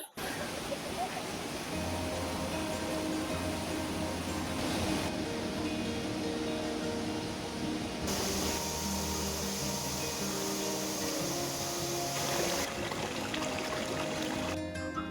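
Rushing water of Mae Sa waterfall near Chiang Mai, a continuous broadband roar that shifts in tone as the position changes, with some faint tonal background sounds mixed in.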